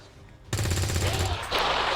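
Rapid automatic gunfire bursts loudly into a tactical game skirmish in XCOM 2 Long War 2, a dense rattling volley following a brief quiet lead-in, with a second burst layered near the end.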